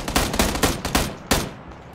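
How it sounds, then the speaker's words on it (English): Rapid sharp shots and impacts ring out in a video game firefight where a crossbow is fired, with a quick run of punchy hits followed by one louder strike. "I just shot a crossbow at him"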